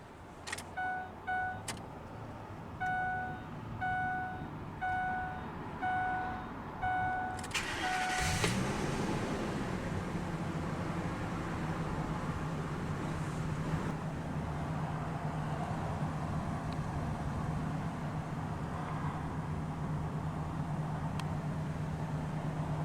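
Inside a 2004 Ford F-250 Super Duty XLT SuperCab, a door chime beeps repeatedly before the Triton 6.8 liter V10 cranks and catches, settling into a smooth steady idle heard from the cab.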